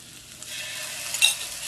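Shallots and garlic sauté in a pan for a pan sauce, a brief continuous hissing sizzle that swells slightly near the end, heard alone without speech.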